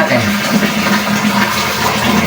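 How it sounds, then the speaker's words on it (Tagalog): Water runs steadily into a container, filling it so items can be left to soak; a continuous, fairly loud rushing pour heard close up with no talk over it. "Siyempre, kailangan mo muna lagyan ng tubig to."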